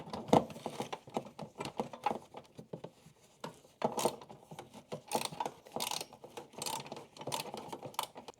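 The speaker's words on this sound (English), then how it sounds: "once I broke it loose with the 3/8 ratchet, I just use my fingers and the socket" A 3/8 ratchet clicks steadily while loosening a bolt on a Mercedes C63 S bracket during a downpipe install, with rapid close-up pawl ticks in bursts and brief pauses between them.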